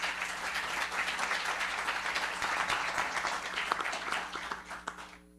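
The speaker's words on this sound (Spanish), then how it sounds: "a quien pido recibamos con un fuerte aplauso" Loud, sustained applause from a university audience welcoming the rector of Universidad del Norte at a morning forum, dense clapping filling the whole stretch before tapering off at the end.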